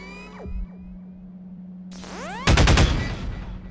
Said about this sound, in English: Now, take out the firearm of your choice and shoot the device.